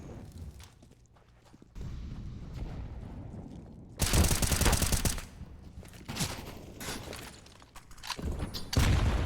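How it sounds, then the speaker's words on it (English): A grenade blast in a Counter-Strike match lands as a loud broadband burst in the middle, with gunfire crackling before and after and a second heavy hit near the end. "Oh man, that nade did a shitload of damage."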